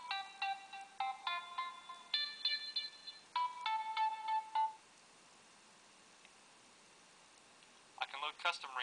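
Custom phone ringtone made with the Ringtone Designer app: a series of bright electronic melodic tones in short phrases for about five seconds, then near silence, then another brief burst of tones at the end.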